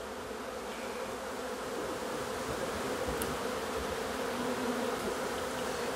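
A honeybee swarm buzzing around hive boxes at an outdoor beekeeping field day, a steady dense drone of many bees, close and continuous with no talk.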